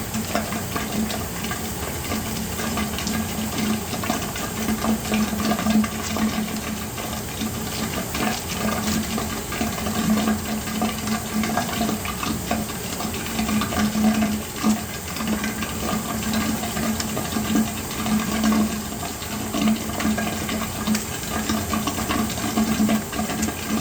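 Water runs steadily from a tap for a pre-rinse of compounding equipment with soap while preparing a nonsterile ointment, a continuous close splashing wash with no voices.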